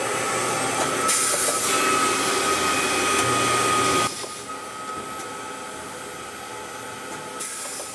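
Screen printing of a clear coat onto OEM safety warning decals: a steady, loud mechanical whir and hiss for about four seconds, then dropping to a quieter, continuous machine hum.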